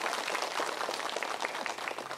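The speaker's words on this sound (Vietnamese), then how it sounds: "cho một tràng pháo tay thật lớn ạ" Audience applause at a Buddhist dharma talk in Ngọ Dương pagoda, An Dương: a steady, fairly quiet patter of many hands clapping together, continuous throughout without a break.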